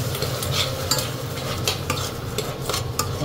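Sardines sauté in a pan, a steady sizzle with repeated scraping and stirring strokes of a utensil against the metal, close and moderately loud, with no talking.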